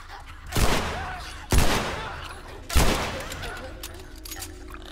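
Three loud, sharp gunshots in The Last of Us, spaced about a second apart, each with a sudden crack followed by a decaying echo in an enclosed sewer setting.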